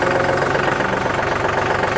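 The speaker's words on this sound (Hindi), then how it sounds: "ज़बरदस्त आवाज़ है ट्रैक्टर की" A John Deere 5210 Gear Pro 4WD 50 hp tractor idles, its engine giving a steady, close, rhythmic mid-low chug with a faint knock, alone with no voices.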